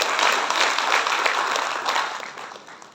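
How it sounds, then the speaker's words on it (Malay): Audience applause for health care assistants at a hospital ceremony, a dense burst of many hands clapping together, fairly loud and steady before tapering off over about three seconds. "Kita bagi tepukan yang gemuruh kepada mereka."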